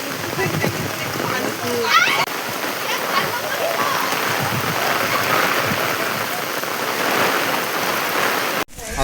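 Floodwater rushes past village houses in Usroli during a monsoon flood, a constant splashing flow with spattering, heard up close while people talk over it.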